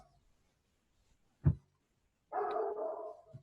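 A dog gives a single short bark at close range, then after a pause a longer, louder bark or howl-like yelp that holds for about a second before fading.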